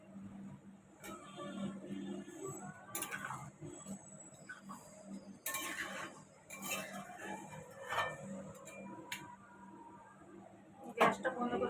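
A spoon scrapes and clinks against a pan while chicken masala curry is stirred, giving intermittent metallic taps and scrapes over a quiet background.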